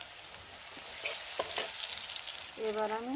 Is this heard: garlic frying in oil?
yes